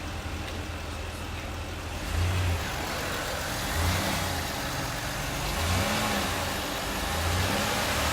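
A car's engine is revved in short bursts over a steady idle during an electrical and purge solenoid check, the pitch swelling and falling back several times at close range with no talking.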